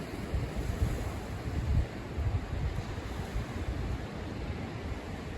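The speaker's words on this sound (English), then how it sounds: "Just listen to those waves." Ocean waves breaking and washing onto the shore, a continuous rushing surf with gentle swells in loudness, mixed with wind buffeting the microphone.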